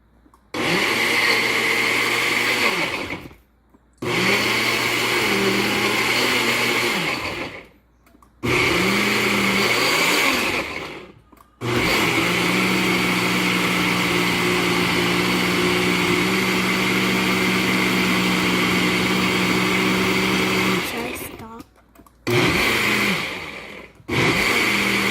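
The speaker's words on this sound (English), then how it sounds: "The boiled cauliflower, I'm going to blend" A kitchen blender purees boiled cauliflower, its motor roaring loudly in several long runs broken by short silent pauses, the whine shifting in pitch as the mash thickens.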